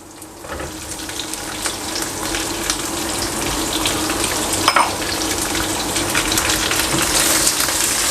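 Capsicum and mixed vegetables sautéing in a hot pan for a Thai-style cashew chicken, a loud, steady sizzle and hiss with occasional stirring scrapes, continuous throughout.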